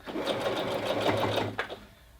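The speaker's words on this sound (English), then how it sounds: "I'm just going to back tack to secure at that end as well" A domestic sewing machine back tacks at the end of a seam on a tiered dress or skirt, giving a steady mechanical whirr with a brief stop and restart near the end, close and clear with no talking.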